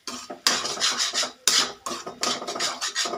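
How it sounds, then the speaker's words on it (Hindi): A spoon scrapes and stirs potato and spinach curry frying over a low flame in a pan, close rhythmic rasping strokes with a short pause midway, no voices. "हमने फ्लेम को लो पे रखा है, इसे हम अच्छे से भून लेंगे इस तरह से।"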